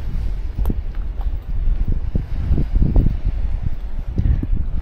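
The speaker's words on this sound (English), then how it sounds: "it's getting a bit windy now" Wind buffets a microphone outdoors on a rocky coast, producing loud, uneven low rumbling gusts and thumps that come and go throughout.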